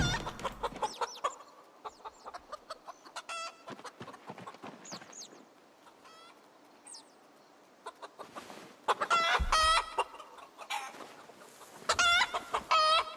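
A rooster in the Project Zomboid video game clucks and crows angrily in repeated bursts, the loudest near the start and again toward the end, alongside sharp hoof-like clopping thumps from game noise.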